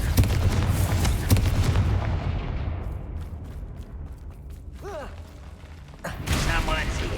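Confringo fire-spell blasts in the Hogwarts Legacy video game, heavy booming bursts at the start that fade into a quieter rumbling tail, then a second loud burst near the end, with a voice briefly heard partway through.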